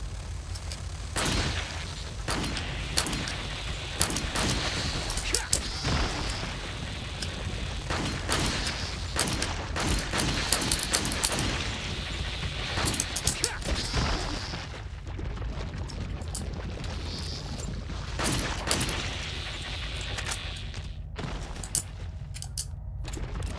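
In Resident Evil 4, an SMG fires repeatedly in short, rapid bursts with sharp cracks and mechanical clatter, loud and close, over rumbling game ambience.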